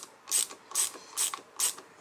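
Ratchet wrench clicking as clutch cover bolts are loosened in a criss-cross pattern on a Honda CB500X motorcycle during a clutch change, four evenly spaced close bursts of rapid pawl clicks with no talk.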